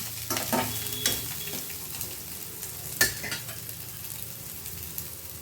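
Bitter gourd pieces dropped into hot tempering in a pan, frying with a steady sizzle while a spoon clinks and scrapes against the pan in brief strokes.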